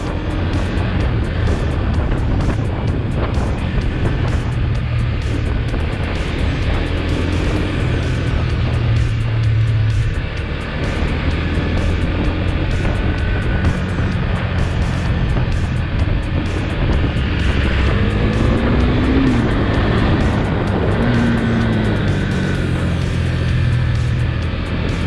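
A Husqvarna Svartpilen 401 motorcycle's single-cylinder engine drones steadily during a test ride, heavy wind rush blending with the engine note, which rises and falls as it revs through the gears.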